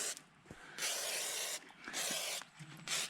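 Aerosol WD-40 sprayed onto the underside of an RZR Pro XP side-by-side in several bursts of close, loud hiss, each about a second long, separated by short pauses.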